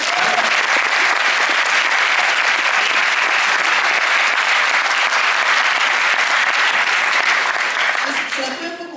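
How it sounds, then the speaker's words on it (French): Cinema audience at a private screening with a Q&A gives sustained, loud applause for about nine seconds, a dense wash of clapping that fades slightly at the end. "Applaudissements."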